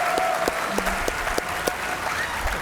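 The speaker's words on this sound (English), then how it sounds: "let's have a final round of applause for our Ultimate Hardnetting champion, Kiss Cactus." A studio audience gives a round of applause at a podcast taping, steady dense clapping from nearby with a few louder individual claps standing out, and a voice briefly heard beneath it.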